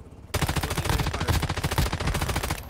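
Rapid automatic gunfire in Warzone Mobile, a loud, close, continuous burst of evenly spaced shots starting abruptly after a brief quiet moment and running steadily to the end.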